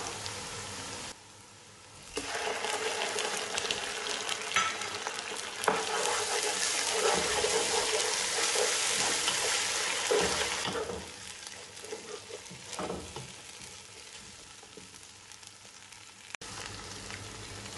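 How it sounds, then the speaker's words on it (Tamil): Ginger garlic paste hitting hot oil with golden brown onions for a chicken vadi biryani, a bright sizzle and frying hiss with stirring scrapes that swells loud in the middle and settles toward the end. "இப்போ நம்ம இஞ்சி பூண்டு பேஸ்ட் சேர்த்துக்கலாம்."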